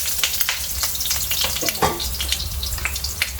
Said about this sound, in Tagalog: nagpainit na ako ng oil. Ilagay natin yung ating bawang at saka sibuyas.